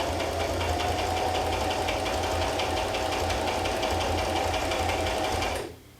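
A sewing machine runs steadily while stitching squares for a raggy quilt, a constant close-up mechanical hum and rapid needle whir that stops abruptly near the end.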